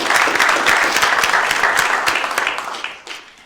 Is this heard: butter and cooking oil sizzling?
no